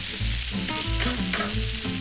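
Orzo pasta crisps in very hot olive oil with a close, steady frying sizzle and occasional crackles over a low rumbling hum, no one speaking.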